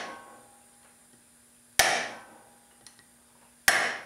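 Two sharp metallic hammer blows strike a motorcycle valve during a leak down test, each a loud close impact with a ringing decay, spaced about two seconds apart over a faint steady hiss.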